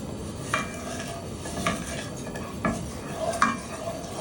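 A spoon stirs a ham glaze simmering in a pot, with repeated scraping strokes and sharp clinks against the pot at irregular intervals over a low, steady bubbling.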